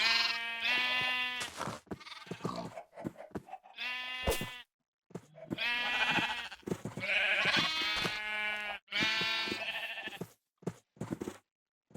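Sheep in a survival video game bleat repeatedly, clear nasal calls coming in several separate bursts with short silent gaps between them, close and alone.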